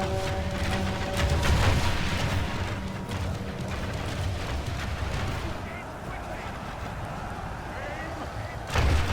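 Siege artillery firing during a battle in Third Age Total War, deep booming shots and rolling rumble layered over constant battlefield din, loud early and again at the close, with a voice speaking over it.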